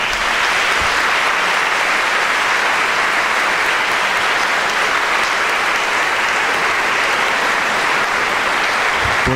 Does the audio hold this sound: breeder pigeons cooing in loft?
no